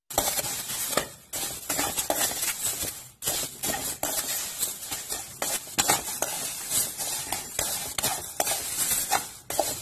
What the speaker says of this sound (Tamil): கடாயில் கொத்தமல்லி விதை சேர்த்து ரோஸ்ட் பண்ணிக்கலாம்.